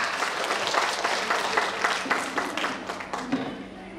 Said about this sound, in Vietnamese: Hãy dành cho những điều tuyệt vời này một tràng pháo tay thật lớn đi ạ.